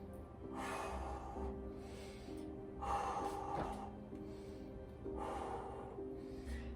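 Heavy breathing during an abs and recovery workout: three loud, breathy exhalation bursts, each lasting about a second, close to the mic over a steady low hum.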